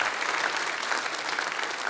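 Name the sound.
audience applause at awards show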